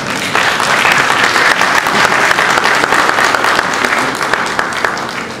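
Loud, close applause from a crowd at a Congolese political speech, a dense, continuous patter of clapping lasting several seconds before easing slightly.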